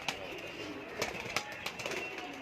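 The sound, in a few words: pigeon cooing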